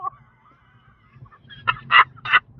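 A human voice imitates a seagull call. Faint murmuring gives way to three loud, nasal, honking squawks close to the microphone.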